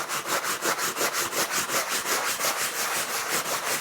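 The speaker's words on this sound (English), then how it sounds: "I'm essentially just buffing the jacket." A stiff brush scrubs rapidly back and forth over a waxed canvas jacket, a loud, steady rhythmic rasping that repeats evenly throughout.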